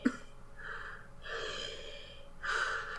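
A voice imitates Darth Vader's heavy mechanical breathing: three drawn-out, hissing breaths in and out, close and fairly loud, the last one strongest, with no talking.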